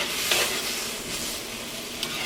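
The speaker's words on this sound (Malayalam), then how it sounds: "ഇനി ഒരു 2-3 മിനിറ്റ് ഇത് നന്നായിട്ടൊന്ന് മിക്സ് ചെയ്ത് കൊടുക്കാം. ആ സവോളയും ക്യാപ്സിക്കും ഒക്കെ നന്നായിട്ടൊന്ന് ചൂടാവും." Onions and capsicum sizzle steadily in a hot pan while being stirred for chicken macaroni, a continuous close frying hiss with a few faint utensil scrapes and no talking.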